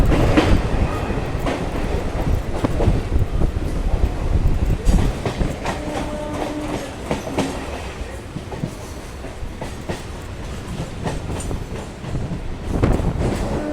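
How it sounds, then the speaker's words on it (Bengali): A Howrah to Dum Dum local train rolls into Tala station, its wheels clattering and rumbling loudly from inside the coach, with rhythmic clacks over rail joints and a brief squeal as it slows. "আমাদের ট্রেনটা এখন ঢুকছে হচ্ছে তোমার টালা স্টেশনে"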